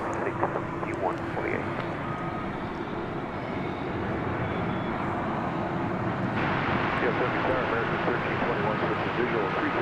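A Boeing 787 Dreamliner approaches a runway at DFW after dark, a distant broadband jet roar that swells gradually and grows louder over the seconds, with faint background noise throughout.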